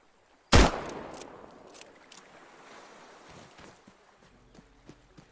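One sharp, loud gunshot from a hard-to-aim gun in Vandeanson's Apocalypse, a sudden crack followed by a fading reverberant tail and quieter scattered ambient sounds afterward.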